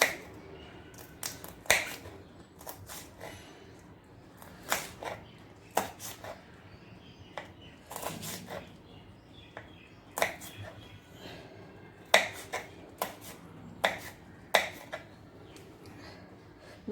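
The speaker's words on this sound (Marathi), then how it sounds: "मिरची सुद्धा बारीक अशी चिरून घ्यायची आहे" Green chillies being finely chopped with a knife on a board, sharp close clicks of the blade landing in irregular small clusters with short pauses between them, fairly quiet overall.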